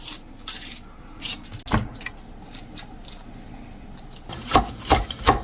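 A knife slices two red chili peppers on a wooden cutting board, with scattered sharp taps and scraping strokes, closer and louder chops clustering near the end.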